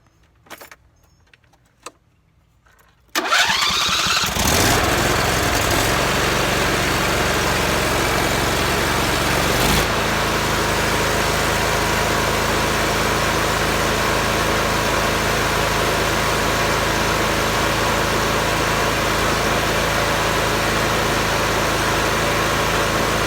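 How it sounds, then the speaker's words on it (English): A John Deere lawn mower engine cranks over and catches after a few quiet seconds, then settles into a loud, steady idle that runs on close by, with no talking. "I'm going to pick you guys up so I can start this mower"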